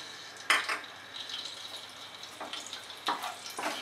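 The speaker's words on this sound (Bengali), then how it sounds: "গরম মশলার মধ্যে নিয়েছি এলাচ, লবঙ্গ, দালচিনি দিয়ে দিলাম।" Cardamom, cloves and cinnamon frying in hot white oil, a faint steady sizzle broken by a few sharp clinks and scrapes of a spoon against the pan, with no talking.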